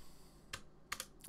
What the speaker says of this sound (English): It's one of the quieter mechanical keyboards.